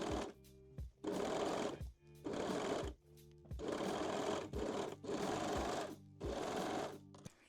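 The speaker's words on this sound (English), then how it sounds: "And sew the front crotch seam." A sewing machine stitches the front crotch seam of a pair of lingerie panties, running in several loud bursts of rapid stitching separated by brief pauses, heard up close with no talking.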